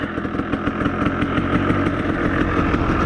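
A KTM 300 motorcycle engine idles just after its first kick start, a steady, loud, rapid two-stroke putter with a busy even rhythm, close by and without talk.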